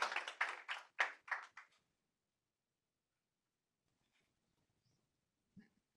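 Brief, sparse applause after a presentation: a few distinct hand claps close together over about two seconds, then near silence with one faint tap at the end.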